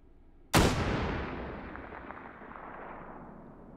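A single powerful gunshot from a bipod-mounted rifle in the VR game Hot Dogs, Horseshoes & Hand Grenades cracks sharply, then a long rolling echo decays over several seconds.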